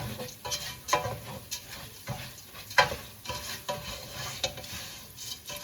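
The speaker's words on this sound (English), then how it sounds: "So we move the rice maybe about every minute, so that we let the bottom part get nice and toasty and starts separating." Rice stirred and fried in a pan for homemade green Mexican rice with corn, giving a steady sizzle broken by repeated scraping stirs about every second, close and moderately loud with no talking.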